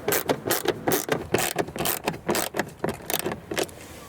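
Rapid ratchet clicking in repeated bursts as bolts are backed out of a Volvo XC interior door panel, close and crisp with short pauses between strokes.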